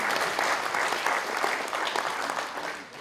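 Sustained applause fills a room at a city sports award ceremony, many hands clapping densely and evenly throughout at a moderate level, with no voices standing out.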